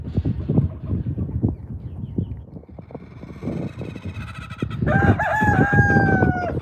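A rooster crows near the end, a loud, clear drawn-out call following a stretch of barnyard clucking and shuffling among pigs and ducks.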